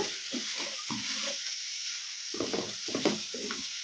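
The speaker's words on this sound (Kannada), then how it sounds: "ಈಗ ಇದನ್ನು ಮೀಡಿಯಂ ಫ್ಲೇಮಲ್ಲೇ ಫ್ರೈ ಮಾಡ್ಕೋಬೇಕು." Potatoes and fenugreek frying over a medium flame in a pan give a steady hiss, broken by close, intermittent scraping and stirring bursts.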